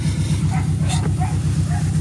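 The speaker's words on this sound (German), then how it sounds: "Und die Hunde bellen auch schon." Dogs barking and yipping in short excited bursts, fairly close and loud, over a steady low idling rumble from a nearby car at a Subaru tuning shop.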